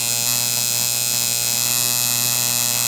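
Tattoo liner machine buzzing steadily while being tuned, a loud, even electric hum with bright harmonics, close up and continuous with no talking.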